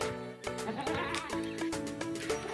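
Goat for sale at a livestock trader's, bleating in a loud run of repeated wavering cries close by, with no talk over it.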